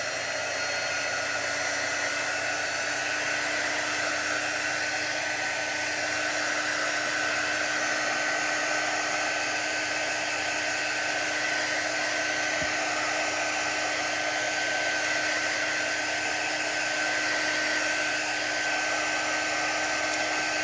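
A hair dryer blows steadily and loudly without a break, drying a freshly painted boot, its constant whooshing whine unchanged throughout.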